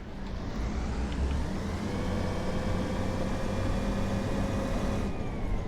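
A Class 142 Pacer diesel railbus in Train Sim World 4 accelerating, a steady droning engine rumble with rising whining tones, continuous and fairly loud throughout.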